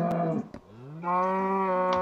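Cows mooing in the video game Minecraft: two close, loud bovine moos, one short and one drawn out with a rising tonal bellow, with no talking.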